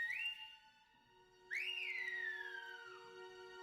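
Two clear whistles, a short rising note followed by a longer one that swoops up and slowly glides down, alone in a quiet room.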